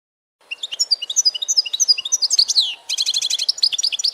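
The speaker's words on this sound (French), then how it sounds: "Mon ami l'oiseau chante le soleil revenu." A songbird sings close and clear, a quick run of bright whistled and chirping notes in rhythmic bursts, ending in a rapid trilled series, heard alone against near silence.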